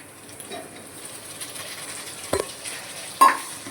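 Potatoes and onions are turned into poha in a pan, with a quiet, close stirring rustle and two brief clanks of the spoon against the pan near the end, with no talking.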